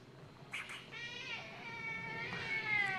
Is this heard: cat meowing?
yes